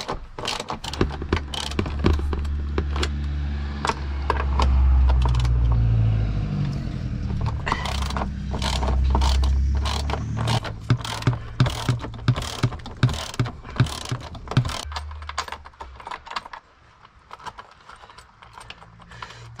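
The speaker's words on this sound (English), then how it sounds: "Now you need a 14mm socket, an extension bar." A socket ratchet fitted with a 14mm socket and an extension bar undoes the seat bolts inside a 2004 NP Pajero, giving fast metallic clicking bursts with clunks and bumps from the seat frame, close and fairly loud.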